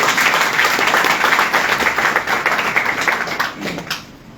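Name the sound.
audience applause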